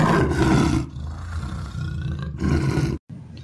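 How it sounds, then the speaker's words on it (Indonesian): A toy lion lets out a loud, close, sustained recorded roar lasting about three seconds, a second roar starting after a brief pause with no talking over it. "singa ya teman, si raja hutannya"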